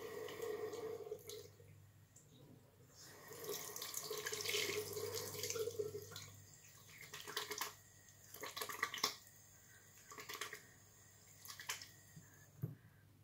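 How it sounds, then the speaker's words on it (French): Hands being washed under a running tap, with a steady stream of water falling into a sink, then splashing and rubbing and intermittent drips and squishes as the flow changes, all nearby and fairly quiet. "je vais déjà commencer par me laver les mains avant de toucher votre visage"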